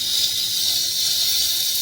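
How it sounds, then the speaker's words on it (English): A steam cleaner set to its first heat level releases a steady, even hiss of steam close by, constant throughout with no voices. "And now it's about to start pouring out steam,"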